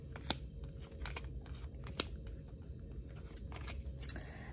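Oracle cards being shuffled and drawn by hand, heard as soft papery riffling and flicking with several sharper snaps, close and quiet over a steady background hiss.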